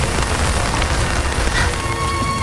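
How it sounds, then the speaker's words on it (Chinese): Steady rain pours down outdoors in a steady, dense hiss of drops striking surfaces, close and constant with no voices. "下雨了，快上车吧"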